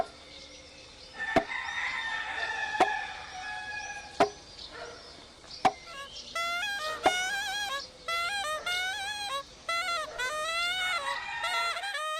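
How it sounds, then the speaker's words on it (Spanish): Several roosters crow in the early morning countryside, a series of rising, wavering calls that grow busier in the second half, with sharp intermittent knocks from nearby in between. "tan bonita la mañana cuando viene amaneciendo. Están los gallos menudeando"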